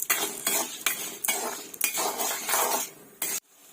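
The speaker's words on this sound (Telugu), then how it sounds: "ఇది ఆయిల్లో బాగా ఫ్రై చేసుకుందామండి." Urad dal frying in oil in a pan for a chutney, crackling sizzle broken by repeated scraping stirs of a utensil against the pan, close and fairly loud, ending abruptly.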